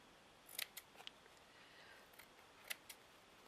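Faint snips of scissors cutting a vintage book cover, a few quiet clicks in two small clusters against a hushed room.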